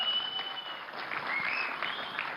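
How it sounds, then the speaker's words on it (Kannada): Sustained audience applause at the KGF 2 trailer launch greeting Shivarajkumar, a steady wash of many hands clapping throughout, moderately loud with no talk. "ಶಿವರಾಜ್ ಕುಮಾರ್ ಸರ್ಗೆ ಒಂದು ದೊಡ್ಡ ಚಪ್ಪಾಳೆ ಪ್ಲೀಸ್"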